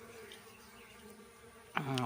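Busy bees drone in a steady, close buzz that grows suddenly louder and fuller near the end.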